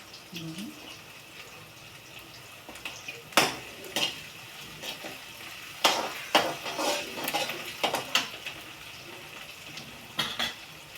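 Chopped onion frying in a pan for chival bhaji, with a soft sizzle under repeated clinks and scrapes of a spoon stirring against metal, the knocks coming in irregular clusters.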